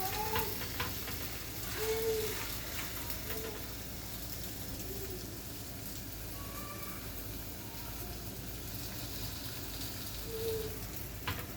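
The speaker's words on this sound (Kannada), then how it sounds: "ಬಿಸಿಯಾಗಿರೋ ತವಾಗೆ ಒಂಚೂರು ಆಯಿಲ್ ಸ್ಪ್ರೆಡ್ ಮಾಡಿಕೊಂಡು ನಾವು ಮಾಡಿರೋ ಅಂಥ ಅಕ್ಕಿ ರೊಟ್ಟಿನ" Rice rotti frying in oil on a hot tava, giving a steady, close sizzle throughout with faint intermittent clinks and small chirping noises over the top.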